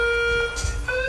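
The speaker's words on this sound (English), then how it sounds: "The moment I hear that fire alarm beep" A school fire alarm sounds a loud, steady electronic tone that breaks off and starts again at a slightly higher pitch, close and harsh, with rumbling noise underneath.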